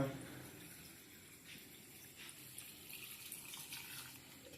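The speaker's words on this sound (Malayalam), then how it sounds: "ഒഴിക്കുന്ന വെള്ളത്തിന്റെ കണക്ക് നോക്കാം" A steady stream of water runs and splashes softly into a pot of vegetables for curry, continuous and fairly quiet for a few seconds.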